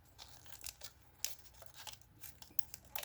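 Scissors or a blade cut back the covering on a car's wiring, giving a faint, continuous run of crisp snipping and crinkling close up, with no talk.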